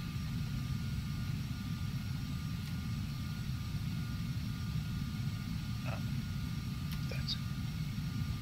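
Embraer 505 Phenom 300 jet taxiing in the FSX flight simulator: a constant low engine rumble, fairly quiet and even, with a few faint high chirps over it.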